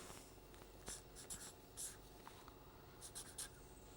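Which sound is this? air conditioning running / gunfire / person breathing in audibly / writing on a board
writing on a board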